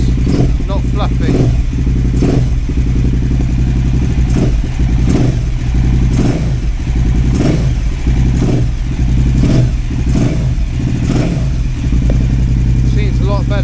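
A KTM 950 Adventure S motorcycle engine runs close and loud, idling with a steady throb and blipped in repeated short revs, alongside people talking.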